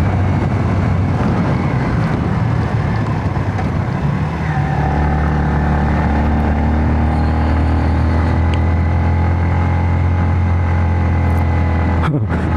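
A Honda Vario 160 scooter climbing a steep mountain road on the Cangar route, its engine droning steadily and rising in pitch, with heavy wind buffeting the microphone throughout and a sharp knock near the end.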